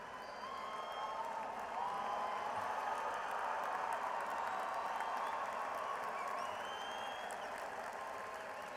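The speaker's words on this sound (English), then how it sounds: "Big round of applause" Sustained applause and cheering from a large crowd at a Washington State University spring commencement ceremony, a steady dense wash of clapping that swells slightly and holds without a break.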